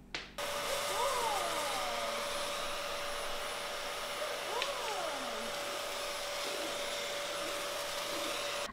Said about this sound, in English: it's starting to look more as we would when we would really be using that vacuum cleaner